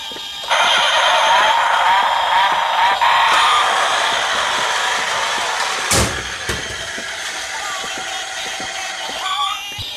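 A Subaru STI and a Ford F-150 Raptor SVT race at a raceway, producing a loud, steady engine drone through nearly the whole stretch, with one sharp bang partway through.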